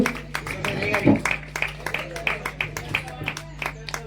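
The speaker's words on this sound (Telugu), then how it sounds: "చప్పట్లు కొట్టి దీని నామాన్ని మహిమపరుస్తూ" A church congregation claps along in praise during a worship service, the regular hand claps steady and moderately loud over a low hum, with voices talking and singing beneath.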